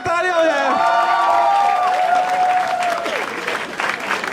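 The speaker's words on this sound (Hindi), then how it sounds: "जोरदार तालियां हो जाए।" A comedy show audience bursts into loud applause mixed with cheering and whoops. Excited voices shout over the clapping throughout.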